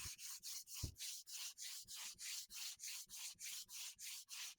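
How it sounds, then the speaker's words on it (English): A belt sander grinds steadily against a wooden box piece in rhythmic passes, with a regular pulsing scrape repeating about three times a second, close and loud with no talking. "let me finish sanding this"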